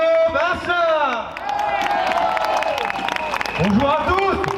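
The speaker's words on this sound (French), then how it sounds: "Je vous prie d'écouter et d'applaudir Guillaume Asselin." A crowd applauds at a street demonstration for civil liberties in Paris, greeting speaker Guillaume Asselin. Steady, dense clapping and crowd noise fill the whole stretch at close range, with some voices rising over it.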